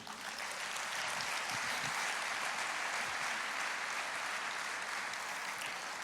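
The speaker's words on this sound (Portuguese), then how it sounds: "Você pode aplaudir o Senhor?" Church congregation applauding during a sermon, steady dense clapping throughout, moderately distant with hall reverberation and no talking over it.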